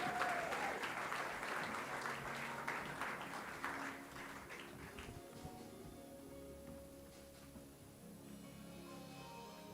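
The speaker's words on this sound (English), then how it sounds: "please give a round of applause to Loretta Dunn as she makes her way to the stage" Sustained applause fills an awards ceremony hall for Loretta Dunn, honoured for over 40 years of service to the Comrades Marathon, loud at first and then slowly thinning into scattered claps.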